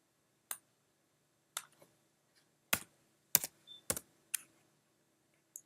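Keys on a computer keyboard are struck in sparse, separate taps, about eight crisp clicks spread over several seconds with quiet gaps between them, close and fairly quiet with no talk.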